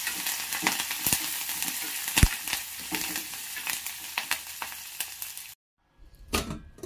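Curry leaves and spices crackle and sizzle in hot oil in a pan, a dense continuous frying hiss with sharp pops, stopping abruptly near the end before a brief stir of sound resumes.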